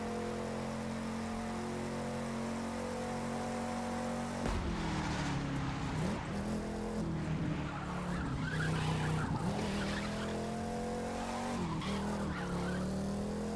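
Racing game car in The Crew 2 on a coast-to-coast drive from New York City to Los Angeles, its engine droning steadily while tires squeal and skid repeatedly through turns, loud and continuous without talk.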